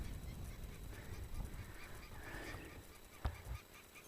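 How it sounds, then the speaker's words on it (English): Wild birds give a few faint, distant goose-like honks on a climb toward a hill ridge line on Noble Island, scattered over a soft outdoor background. "A couple of birds going off at me."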